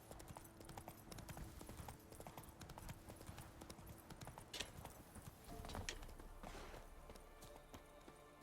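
Roach, a horse in The Witcher 3, trots with steady, quick clip-clopping hooves that are faint and continuous over a dense game soundscape.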